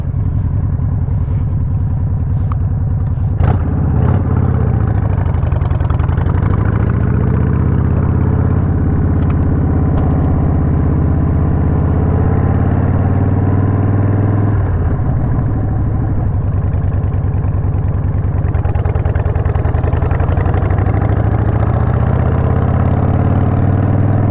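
A 2003 Harley-Davidson Sportster 100th Anniversary motorcycle engine runs loud and close for the whole stretch, a deep steady rumble with a few shifts in pitch as it rides, and no talking.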